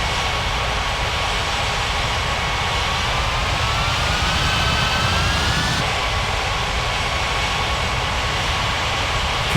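An Air India airliner taxis toward runway 35 right at a video game airport, giving a continuous loud jet engine roar with a faint rising whine, steady throughout with a brief shift partway through.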